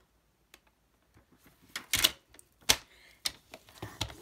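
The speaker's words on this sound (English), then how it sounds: "let's go ahead and score our card base at 5 1/2" White cardstock card base scored at 5 1/2 inches with a scoring tool: a few sharp, close clicks and scrapes, a louder cluster of taps in the middle, then lighter ticks, with no talking.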